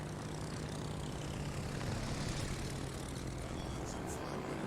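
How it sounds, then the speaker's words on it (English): Torpedo bomber aircraft engines in the naval video game World of Warships: Legends, a quiet, continuous propeller drone that holds steady across the whole stretch. "So we press our attack, we take out 2 more torpedo bombers"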